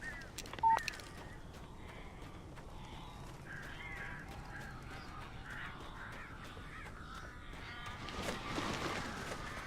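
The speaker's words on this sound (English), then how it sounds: "These birds are weird." Crows caw repeatedly in the video game Alan Wake, harsh calls scattered over a dim ambient background with one louder burst near the start and rising flutter toward the end.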